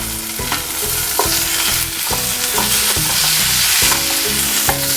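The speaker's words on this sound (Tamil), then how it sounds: "வதக்கிட்டு நம்ம மீதி வச்சுருக்க சின்ன வெங்காயம் எல்லாத்தையுமே சேர்த்துக்கோங்க." Small onions sauté in a pan of oil for a country chicken curry, sizzling loudly and steadily up close, punctuated by regular scraping strokes of a stirring spoon, with no talk.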